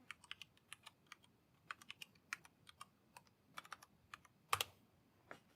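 A password typed on a computer keyboard: quiet, irregular bursts of light key clicks with short pauses, ending in a few sharper keystrokes, no voices.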